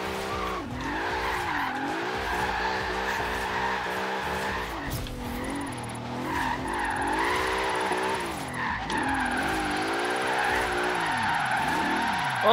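A Bentley Bentayga drifting in Forza Horizon 3, with a loud engine revving up and down beneath long, sustained tire squeals and skids that rise and fall, continuous throughout.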